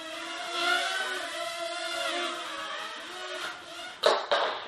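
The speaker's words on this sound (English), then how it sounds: "It is a bit noisy, by the way, the quadcopter." An Eachine E20 quadcopter buzzes steadily with wavering motor whine over several seconds, then crashes, ending in two sharp thumps near the close.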